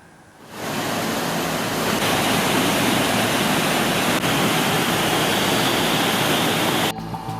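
Floodwater rushes from the burst Cikapundung river embankment through homes in Kelurahan Braga, Bandung, carrying mud: a loud, steady broadband roar that swells in after half a second and holds without a break.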